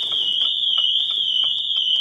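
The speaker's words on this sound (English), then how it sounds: "So I'm going to open the door, the alarm system is now going off." A Pandora alarm system fitted to an Abarth 595 Competizione sounds a single steady, piercing high-pitched tone, loud and continuous without a break.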